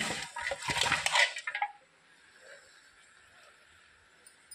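Metal clatters close by as a lid goes onto a cooking pot, a flurry of clinks and scrapes lasting under two seconds, then a quiet simmering hush.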